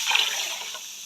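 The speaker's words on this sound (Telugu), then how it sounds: "ఇక్కడ నేను 2 గ్లాసుల బియ్యానికి 4 గ్లాసులు వచ్చేసి వాటర్ అన్నవి తీసుకుంటా." Water pours into rice for cooking, a brief close splash and gush that fades within about a second.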